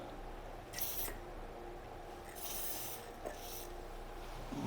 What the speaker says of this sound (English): we will use some spray to clean the